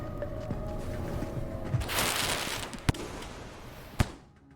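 Explosions in the Rain World video game: a broad noisy blast swells around the two-second mark and fades, followed by two sharp, loud bangs near three and four seconds, with no speech.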